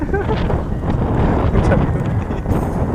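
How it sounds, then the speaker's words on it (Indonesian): Strong wind buffets the microphone with rain while fishing for toman from a boat on open water, a loud steady roar with gusts throughout. "Angin, hujan, berhenti."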